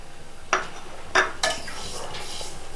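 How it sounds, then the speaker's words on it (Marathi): Sesame seeds are dry-roasted and stirred in a pan for sesame-jaggery laddoos: three quick scraping clinks of a utensil against the pan over a faint, steady background hum. "चला सर्वप्रथम आपल्याला तीळ भाजून घ्यायचे"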